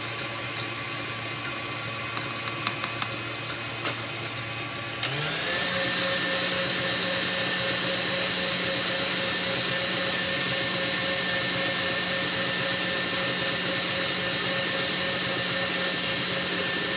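An electric mixer whisks a meringue mixture with caster sugar, a steady whirring drone that rises in pitch partway through, then runs on evenly and close by.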